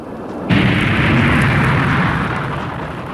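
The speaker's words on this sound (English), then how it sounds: "All jets firing." Rocket jets fire at takeoff in a 1959 science-fiction radio drama: a sudden loud, sustained roar that bursts in after a brief quiet and rumbles on steadily.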